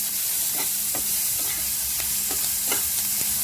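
Freshly washed vegetables with chili and tomato sizzle and steam in a hot pan, a steady loud frying hiss punctuated by rhythmic scraping stirs, with no talking.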